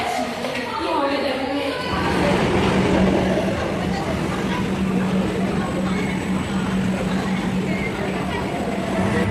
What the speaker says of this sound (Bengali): এই যে আমাদের মেট্রো চলে এসছে। এই মেট্রো করে এখন আমরা ধর্মতলা যাব।